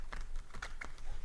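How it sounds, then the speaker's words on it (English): A deck of cards being shuffled a couple of times at close range during a reading, giving a few quick papery riffles and flicks over a soft background hum. "Couple of shuffles"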